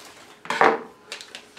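A few quick metallic scissor snips up close, one louder cut followed by lighter clicks.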